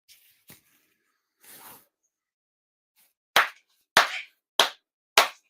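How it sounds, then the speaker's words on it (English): Four sharp ritual Shinto hand claps ring out at a Hōtokusai shrine ceremony, evenly spaced about half a second apart, crisp and close, following a few faint earlier rustles, with no voices. "4 sincere claps"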